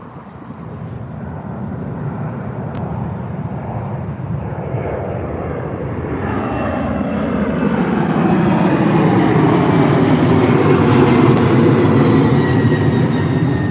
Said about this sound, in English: United 767 off to New York out of London Heathrow.